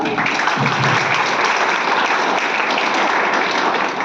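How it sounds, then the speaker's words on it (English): An audience at an Indian startup challenge event gives a dense, steady round of applause for the next presenting speaker, loud and sustained throughout with no talk over it. "huge round of applause"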